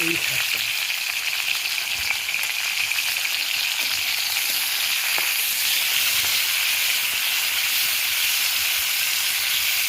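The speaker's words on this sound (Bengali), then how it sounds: "রাঙা আলু রাঙা আলু ভাজা করছি" Sweet potato fries in a pan with a constant loud sizzle and hiss close by, broken by faint scrapes of stirring, and no voices over the steady frying.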